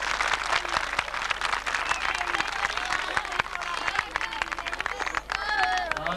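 Dense, sustained applause from an audience at a road safety awareness event with Lahore Traffic Police as children leave the stage; the clapping rattles steadily and fairly close throughout, with crowd voices mixed in.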